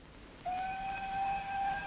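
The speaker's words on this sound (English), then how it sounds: "That train again." A train whistle sounds as one steady, clear tone that starts abruptly and holds for over a second, moderately loud over a quiet background.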